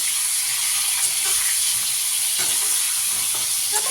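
Pointed gourd (potol), slit at both ends, fries in hot oil with a loud, continuous sizzle and occasional soft stirring scrapes close by, with no voices.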